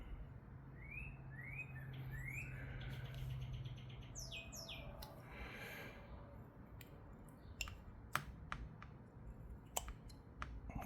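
A wild bird calls outdoors with short rising chirps and quick tweets, fairly faint against steady background noise, followed by scattered sharp clicks and taps toward the end, with no voices.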